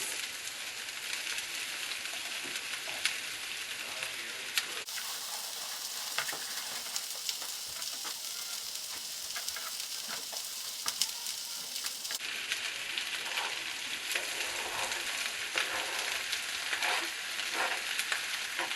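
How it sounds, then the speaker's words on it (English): Corned beef and onions fry in a pan for Jamaican-style corned beef, giving a steady, dense sizzle throughout with faint crackles and stirring and no talk. "That all goes into your pan with your onions."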